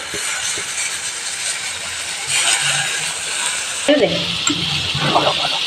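Washed Gobindobhog rice is dry-roasted in a kadai for khichuri, with a steady close hiss and rasp and scraping bursts as it is stirred.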